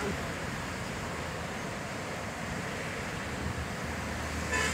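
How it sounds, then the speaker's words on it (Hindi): A small river near a bridge by the Bham river flows with a steady, continuous rushing wash, moderately close, with no breaks. "यहाँ पे आपको वाटर का साउंड भी थोड़ा बहुत ही मतलब अच्छा लगता है"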